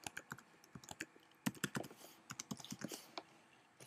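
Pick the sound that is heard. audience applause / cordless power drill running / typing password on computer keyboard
typing password on computer keyboard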